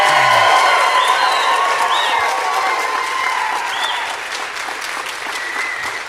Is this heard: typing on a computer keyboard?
no